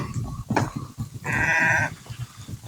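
A fattening sheep on a farm gives one loud, close bleat lasting under a second midway through, with quieter animal shuffling and rustling around it.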